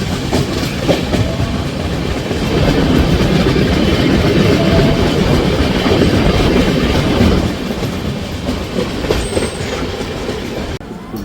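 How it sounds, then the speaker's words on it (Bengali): A Black Diamond Express train with new LHB coaches arrives at Bandel Junction, rumbling steadily with clattering wheels throughout, loud and close, with a brief high squeal near the end. "আমাদের ট্রেন এই মুহূর্তে এসে পৌঁছেছে তার যাত্রাপথে সেকেন্ড হল্ট ব্যান্ডেল জংশনে"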